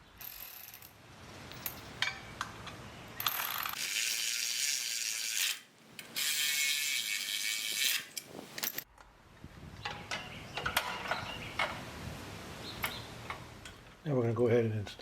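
A ratchet with a 7/16 socket tightens bolts while fitting a GrassFlap onto a Bradley 36-inch stand-on mower deck, producing bursts of fast clicking with metallic rattles and pauses between runs, and a voice speaking nearby.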